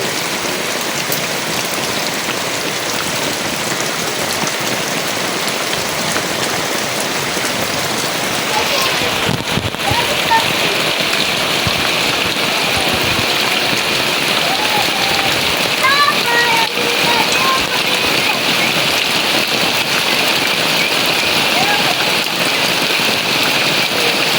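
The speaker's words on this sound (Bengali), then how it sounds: "অনেক বৃষ্টি করতেছে" Heavy rain pours steadily at a rural home where ducklings are kept under a mosquito net, a dense continuous hiss, with faint chirps of small birds or ducklings breaking through partway.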